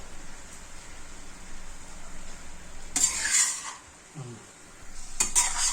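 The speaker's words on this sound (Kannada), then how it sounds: "red chilli sauce, soya sauce, ಅದನ್ನು ಮೇಲ್ಗಡೆಯಿಂದ ಹಾಕ್ಕೊಂಡು ಮಿಕ್ಸ್ ಮಾಡ್ಕೋಬೇಕು" Fried rice being stirred in a pan with red chili sauce and soy sauce for Thai fried rice: steady frying hiss with louder bursts of scraping and stirring near the middle and end, no talk.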